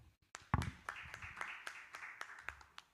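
Scattered hand claps, irregular and moderately loud, from a small group at a cycling forum in Kenya, with faint voices murmuring in the background.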